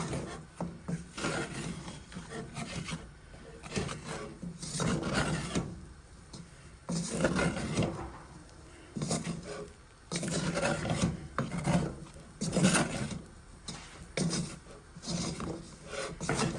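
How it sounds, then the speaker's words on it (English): Flour, onions and garlic stirred in butter in a pan: repeated scraping, rasping strokes in an uneven rhythm with short pauses between bursts, close and moderately loud, with no talking. "You gotta keep stirring, guys."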